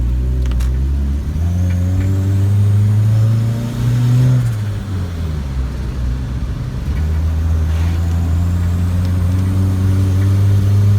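A turbocharged Honda Civic engine runs steadily while driving at night, a loud droning tone that rises, dips and climbs again as the revs change, heard from inside the car.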